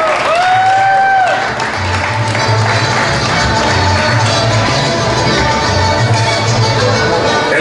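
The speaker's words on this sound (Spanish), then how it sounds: "los aplausos para Víctor Michel" A crowd at a charro pageant applauds with dense, sustained clapping and some cheering, loud and continuous from start to finish, with a voice briefly heard at the opening.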